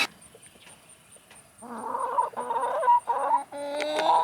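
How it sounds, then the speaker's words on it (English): Chickens in a backyard coop cluck in loud, busy overlapping bursts after a quiet start, close by, with no talking. "I'm out of the chicken coop, and I'm about to give them some worms and some feed"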